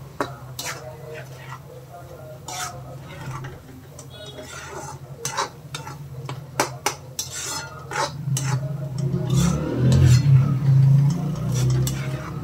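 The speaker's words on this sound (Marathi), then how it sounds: "आता हे सर्व साहित्य छान एकजीव होऊपर्यंत परतून घ्यायचं" A spoon scrapes and stirs chicken kharda masala in a pan with steady clinks of metal on metal, growing busier and louder toward the end as a voice talks faintly underneath.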